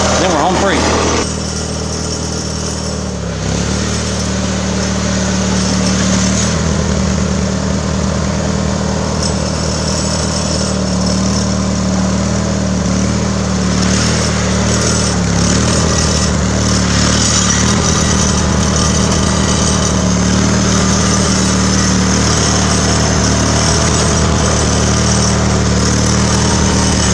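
Small lawn mower engine running continuously at high revs while driving through a sand pit and crawling over roots and rocks, loud and close for the whole stretch, with slight surges in pitch as the load changes.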